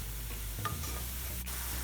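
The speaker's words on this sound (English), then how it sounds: "we've had our vegetables sauteing for about 3 minutes" Vegetables sauté in a pan over medium-high heat, a short steady sizzle with a soft stirring scrape, close and continuous.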